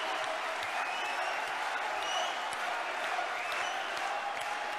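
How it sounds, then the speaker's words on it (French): Sustained applause from an audience at a French political gathering marking ten years of the UPR, steady dense clapping filling the whole stretch without pause. "Vous pouvez encore l'applaudir très fort"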